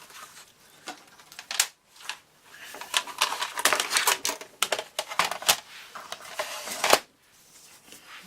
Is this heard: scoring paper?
yes